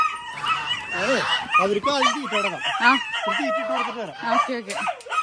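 Chickens cluck and squawk close by in a busy, overlapping chorus of sharp, pitched calls that keeps going throughout.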